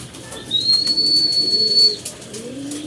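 Pigeons, including blue bar white and checkered white racing birds, coo in low soft murmurs through most of the stretch, with a faint high whistle-like tone above them and no talking.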